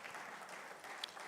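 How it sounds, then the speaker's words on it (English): Round of applause from a panel audience at an energy industry summit, steady soft clapping spread across the room, moderately distant and continuous throughout. "I thought you would give him a round of applause for that"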